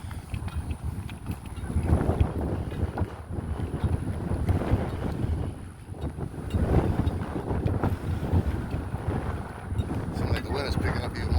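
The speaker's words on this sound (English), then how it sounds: "it's picking up even more because I'm starting to move more to the side when the wind hits me" Wind buffets a microphone outdoors while someone walks on a ruck march, a steady low roaring rumble with gusty swells that rise and fall throughout, close and loud.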